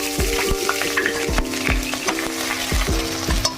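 Ginger and garlic paste frying in oil in a wok, a steady close sizzle broken by repeated scrapes and clinks of a spatula stirring against the metal.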